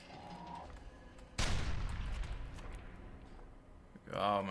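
A gunshot in the first-person shooter F.E.A.R. 2: Project Origin: one sudden loud blast with a long rumbling, fading tail over quiet game ambience, then a voice starts talking at the end.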